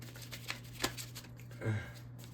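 Tarot cards shuffled by hand before another is drawn: a short run of crisp riffling flicks and soft slaps, close and fairly quiet over a faint steady hum.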